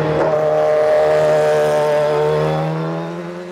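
A high-revving 3.5-litre Formula 1 engine in a Jaguar racing car screams steadily at sustained revs, loud and close, with a slight drop in intensity near the end.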